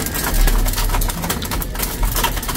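Breeder pigeons coo near the listener in soft, low, repeated murmurs over a busy background of rustling and clatter.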